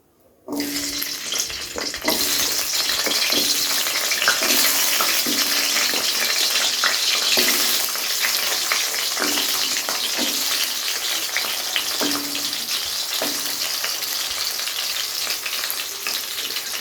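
Papaya and yardlong beans frying together in a pan, a steady loud sizzle that starts abruptly and continues without pause, with intermittent stirring scrapes and clinks throughout.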